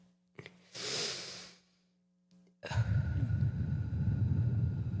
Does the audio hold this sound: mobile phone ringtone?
no